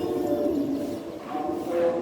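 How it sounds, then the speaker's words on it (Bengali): Several caged pigeons coo softly in low, rolling calls under light outdoor background noise, steady throughout. "এই যে আমাদের এই খাঁচায় অনেকগুলো কবুতর আছে"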